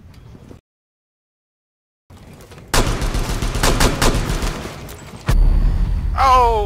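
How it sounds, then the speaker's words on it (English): Rapid gunfire bursts crack loudly in a Rainbow Six Siege team deathmatch on the Tower map, several sharp automatic volleys after a brief silence, followed by a whining, warbling electronic tone. "they shot me right as I threw a grenade"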